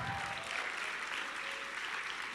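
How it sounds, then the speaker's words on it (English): A seminar audience claps together in a dense, steady burst of applause, indoors and sustained throughout. "Give yourself a round of applause for that."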